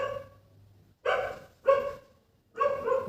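A dog barks three times in separate loud bursts, spaced about half a second to a second apart, heard nearby with no talking over them.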